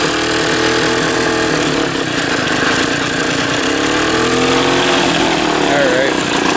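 A 3 hp gas-engine table saw and grinder runs loud and steady without a break, its engine drone filling the whole stretch; a voice may be partly buried beneath it.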